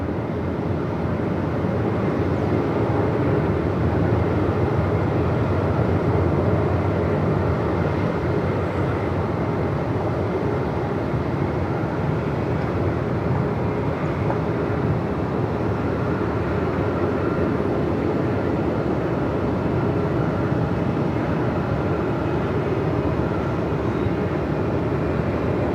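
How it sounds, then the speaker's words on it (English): An Emirates Boeing 777 arriving at Melbourne Airport on a day of 45-plus knot winds, heard as a steady, loud, broadband jet roar with heavy low rumble that holds constant for the whole stretch, no voices. "Emirates 777 on the way in"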